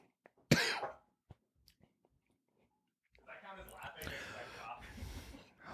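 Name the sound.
cough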